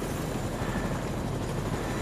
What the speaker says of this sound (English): Dude, look at the helicopter blades.